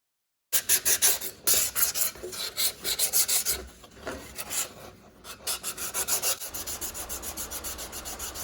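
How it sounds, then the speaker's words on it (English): Coarse 40-grit sandpaper grinds over a heavy layer of body filler in steady, rhythmic back-and-forth rasping strokes, close and loud, with brief pauses between passes. "I hit this with 40 grit sandpaper to give it the final shape that I'm looking for."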